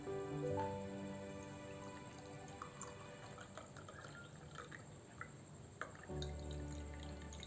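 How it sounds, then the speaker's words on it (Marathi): Ambadi flower sharbat strained into a glass, a faint steady trickle and drip of liquid with a quiet clink near the end. "आता ग्लासामध्ये गाळून घेऊ।"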